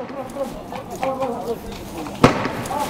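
A single sharp gunshot crack from police and special forces firing live rounds down a city alleyway rings out near the end, close and loud over ongoing voices.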